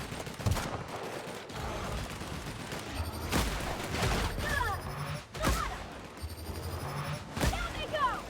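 Gunfire in The Outer Worlds crackles in several sharp, irregular bursts spread across the stretch, each a hard crack over a rumbling game soundscape, with a voice talking between shots.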